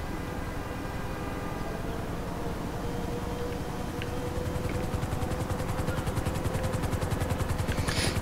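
A helicopter in GTA V, LSPDFR mod, approaches with a steady rotor drone that swells into a louder, faster chopping pulse near the end, with no talk.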